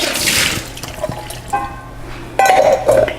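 Soaked mesquite wood chips being drained, with water pouring and splashing in bursts and short trickling gurgles, close and fairly loud, with no talking.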